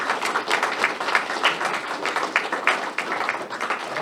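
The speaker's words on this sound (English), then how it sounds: "And I think it deserves another round of applause." Round of applause from a schoolhouse audience, dense clapping sustained at an even level for about four seconds with no voices over it.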